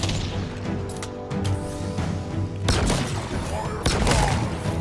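Heavy gun blasts from Halo Infinite boom amid dense game noise, with two loud, punchy shots standing out near the end and speech mixed in.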